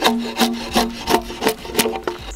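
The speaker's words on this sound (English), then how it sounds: "I'm gonna try using a draw shave or draw knife" A drawknife pulled across fresh-cut tree wood to shave fence posts, giving a series of about seven rhythmic rasping strokes, each a short scraping pull, close and fairly loud with no talking.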